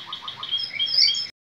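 Spanish Timbrado canaries chirp at the nest in a quick series of bright, close tweets that grow busier for about a second before cutting off abruptly.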